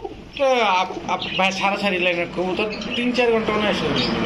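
Pigeons coo at a bird market, large-sized birds of breeds such as kaldom, chila, gorra and giribaz, with layered throaty calls running steadily close by while people talk over them.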